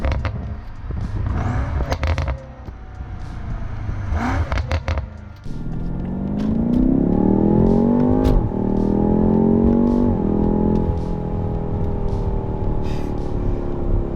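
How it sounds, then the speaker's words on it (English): A 2018 BMW M5 engine revs up through the gears, the note climbing in a rising whine, then holding a strong drone after a sharp shift crack, heard loud and close from the car. "just running through the gears and listening to the engine"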